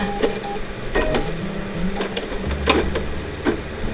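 A sewing machine stitches a sea turtle coin pouch with a busy, close mechanical chatter, punctuated by a few sharper clicks and thumps as the fabric is guided along.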